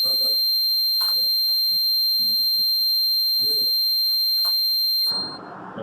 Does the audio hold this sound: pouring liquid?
no